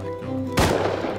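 A single sharp gunshot goes off in the survival game Rust, a sudden loud crack with a short echoing tail that follows a brief stretch of quieter game ambience.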